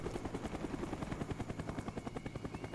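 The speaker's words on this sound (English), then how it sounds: "Enemy spy plane incoming." Enemy spy plane in Call of Duty: Black Ops passing overhead, a steady rotor-like chopping drone with rhythmic pulses running loud and continuous throughout, no voices.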